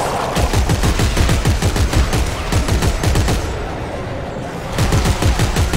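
Loud, continuous automatic gunfire from Dead Space 3, rapid bursts of shots with a brief lull before firing resumes.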